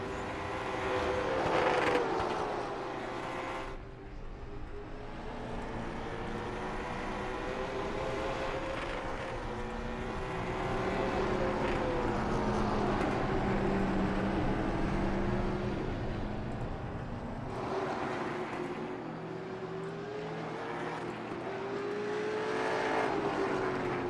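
Late model race cars lapping South Boston during a Wild West Racing League evening practice session. Engines rise and fall in long passes, with the pitch of one car sweeping as it goes by and the others droning on.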